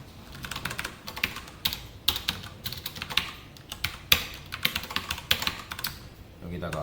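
Rapid, irregular clicking of keys on a computer keyboard, close and clear, with bursts of quick strokes and a few heavier taps, continuing throughout with no voice over it.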